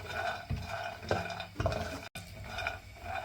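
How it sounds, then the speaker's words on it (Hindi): Almonds, pistachios and cashews dry roasting in a pan over medium-low heat, with soft scraping and stirring and light clinks of nuts against metal coming in irregular bursts, close and fairly quiet, with no talk. "और हम अपने बादाम, पिस्ते और काजू को भी इसी पैन में रोस्ट कर लेंगे।"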